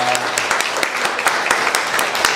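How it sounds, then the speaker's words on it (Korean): A church congregation at a Sunday worship service claps in thanks for a departing couple, steady applause with distinct claps, a voice briefly heard at the start. "다시 한번 두 분에게 그동안 감사했다고 박수 드리겠습니다"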